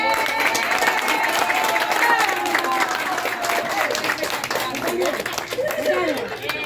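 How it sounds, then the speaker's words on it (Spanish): A crowd at a tenth-anniversary community celebration in Machiques de Perijá, Zulia, applauds the cooks, steady clapping mixed with cheering voices and chatter throughout. "Denle un aplauso a los cocineros."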